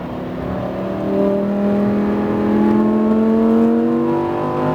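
A Lamborghini Huracan STO accelerating on a race track, heard from inside as a loud, close engine note climbing steadily in pitch through the gears with no talk over it.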